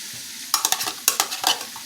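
Garlic sizzles in a hot pan while it is whisked around, with a burst of quick stirring scrapes and sputters that start after a brief quiet moment. The strokes come close and fairly loud, and no voice is heard.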